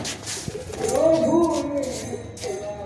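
A Giribaz pigeon gives a low, throaty coo at close range, one rolling call swelling and fading over about a second against quiet background noise.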